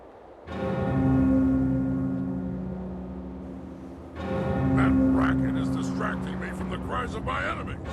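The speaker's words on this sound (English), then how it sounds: "Sky better have a good reason for ringing that bell." Two long, sustained bell tones ring out in the video game Jade Empire, each struck once with a steady humming ring that fades slowly, the second starting about halfway through, with a voice speaking over the later part.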